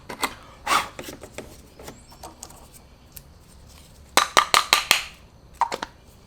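Corroded terminals on a 2008-2012 Honda Accord EX-L car battery get scrubbed with a brush, producing quiet scattered scratches, then a quick run of sharp rasping strokes close by.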